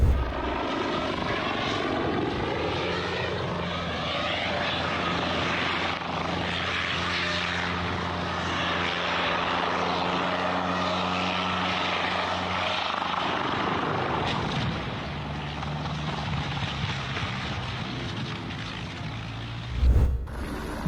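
An M26 helicopter having a rough landing: a loud, close, continuous rotor and engine roar with pulsing blade chop, steady throughout, then a sharp thump near the end.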